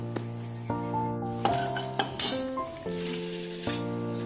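Chopped onion, grated ginger and garlic, and tomato go into hot tempering oil, setting off a sizzle punctuated by several clinks and knocks of a utensil against the pan, close and fairly loud, no talking.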